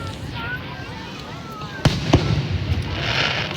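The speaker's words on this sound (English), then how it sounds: "Daddy is so obsessed with Saturn fireworks." Saturn fireworks explode outdoors in sharp cracking bursts, two loud close pops followed by crackling and a rushing hiss, over faint crowd murmur and voices.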